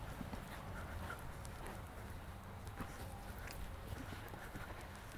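Hooves of a young horse in jumping training in an arena, a faint, continuous patter of hoofbeats under a low background, with no clear talk.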